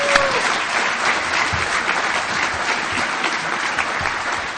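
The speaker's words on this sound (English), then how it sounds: "just a round of applause for them" Sustained crowd applause fills a convention hall at a country music round-up gathering in Nashville, dense steady clapping held at even loudness from start to finish with no voices rising above it.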